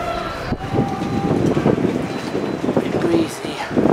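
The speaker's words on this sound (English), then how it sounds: "It's very windy" Blustery wind rumbles against the microphone at a Yorkshire Association bell-ringing practice, with faint background tones and a brief high ringing chime of warming-up bells partway through; no clear talk.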